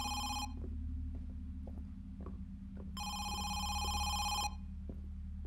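A telephone rings inside a house in the horror game Home Sweet Home, two bursts of electronic bell tone separated by a pause, set over a low steady ambient drone with faint clicks.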